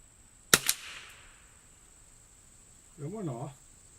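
A rifle fires one sharp, close gunshot with a quick echo tail, followed by a short burst of a voice speaking.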